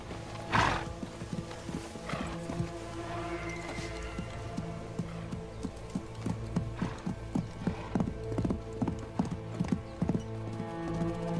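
A horse whinnies once near the start, then steady clip-clopping hooves continue close by over a low background, with faint voices now and then.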